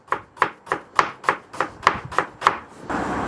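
A knife finely chops an onion on a board with about nine crisp, evenly spaced cuts, close and clear, followed by a brief hiss.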